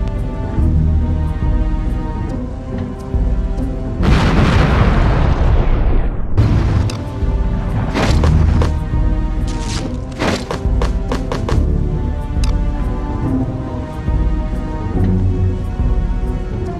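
Artillery rounds from a fire mission in Conflict: Desert Storm land as loud, rumbling explosions over a constant roar of battle noise, with a big blast swelling and fading in the middle, followed by a string of sharp impacts.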